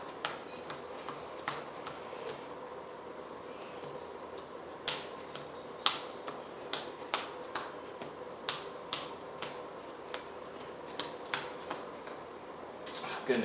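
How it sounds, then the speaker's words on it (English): A 60-card Yu-Gi-Oh! deck being power shuffled, with a series of crisp, separate card snaps and flicks repeating every second or so over quiet room tone. "So I'm going to power shuffle"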